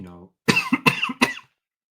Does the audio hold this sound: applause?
no